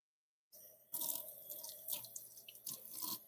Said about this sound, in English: Just washing up my hands really quick before I tip this canvas over